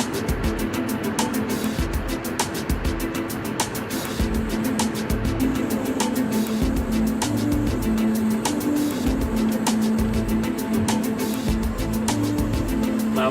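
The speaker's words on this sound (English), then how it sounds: "It's really hard to be filming in the car here because the road is rough, patched up all over the place" A car drives along a rough, patched-up road with a steady interior engine and tyre rumble and frequent sharp knocks and rattles from bumps, heard continuously from inside the cabin.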